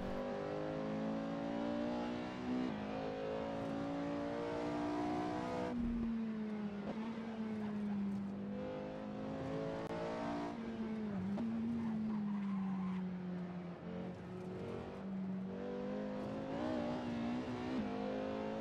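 A Porsche 981 Cayman in the racing simulator Assetto Corsa, its engine droning and shifting pitch under hard braking, with tires squealing and skidding as the brakes lock, loud and sustained with a sharp dip midway.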